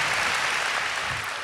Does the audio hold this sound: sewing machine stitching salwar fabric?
no